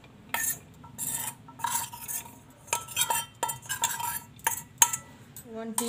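Soaked sabudana pearls being stirred into mashed boiled potatoes in a bowl, with repeated close scraping and clinking of a spoon against the dish in irregular bursts, no voices.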